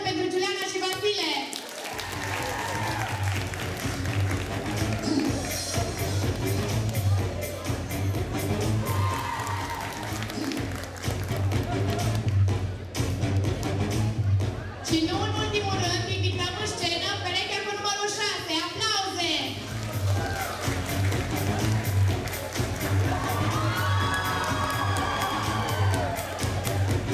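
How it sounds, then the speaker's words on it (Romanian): Cheering and scattered applause for a couple at a high school freshman ball in a hall, crowd noise over thumping music, with voices shouting and whooping throughout. "Aplauze pentru Giuliana și Vasile!"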